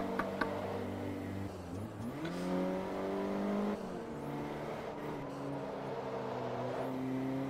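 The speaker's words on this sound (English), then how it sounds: "And Mech's driving the Lamborghini tractor right now." Engine of a Lamborghini tractor driving in the racing game Forza Motorsport 3, a steady droning motor that shifts pitch around the middle, then settles into a sustained whirring hum.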